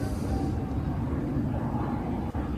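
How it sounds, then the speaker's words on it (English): A classic military jet at an air show near Ayr produces a deep, steady engine roar with broadband rumble, held loud and even for a few seconds without a voice over it. "Love the sound of that engine. Classic jet."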